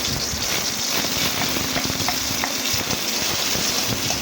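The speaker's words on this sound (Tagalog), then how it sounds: "magigisa na po tayo. Sabay-sabay na po yan. Luya, sibuyas, bawang" Ginger, onion and garlic sautéing together in a hot pan, a loud, dense and continuous sizzle with faint stirring scrapes underneath.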